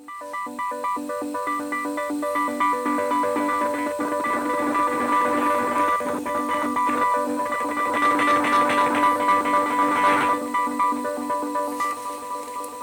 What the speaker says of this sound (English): delay, which works really well with arpeggiated sounds like this one